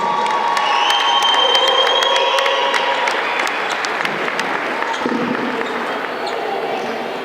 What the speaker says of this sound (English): But one big round of applause for 5 very special people.